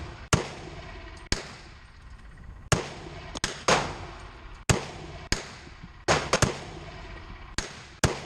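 Glock G31 fitted with a CAA Micro Conversion Kit and Feyachi Micro Red Dot, firing Winchester white box ammunition at a range: about a dozen sharp, loud gunshots at irregular intervals, each with a short echoing tail.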